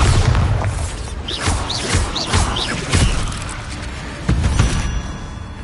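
Bombarda blasting spell in Hogwarts Legacy during a goblin mine fight, a heavy booming impact with rumbling debris, followed by smaller crashes and another thudding hit later on.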